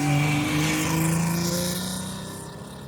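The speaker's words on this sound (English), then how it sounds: "Here's more screaming Saab noises." A two-stroke Saab engine screams at high revs with a buzzy, motorcycle-like whine, loud and close, holding a strained pitch before easing off slightly toward the end.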